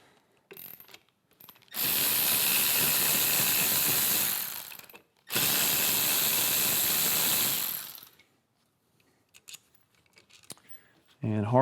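A ratchet with a T27 bit spins out the brake and clutch perch bolts on a Harley Road Glide in two long, loud, close bursts of rapid clicking, with a short pause between them and scattered handling noises around them.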